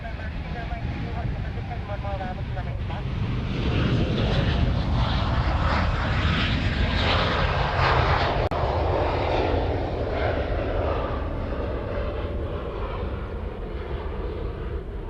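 A Qantas airliner passes at Honolulu airport, its jet engines building to a loud roaring swell that holds and then slowly fades, with a voice speaking over it.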